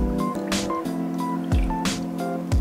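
Sloshing and squishing as a turkey gets massaged in a black tea brine, wet splashes and drips coming in irregular bursts, close and fairly loud.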